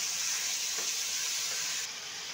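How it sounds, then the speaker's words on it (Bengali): Chicken pieces fry in a pan without salt or turmeric, giving a steady close sizzle that drops slightly in level near the end, no talk. "তো এখানে মাংসটা ভাজা হতে থাক"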